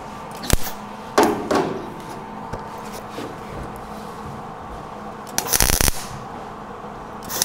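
Quick MIG tack welds on the lower bed corner metal of a 1947-87 Chevy or GMC truck crackle in three short, sharp bursts separated by quiet stretches.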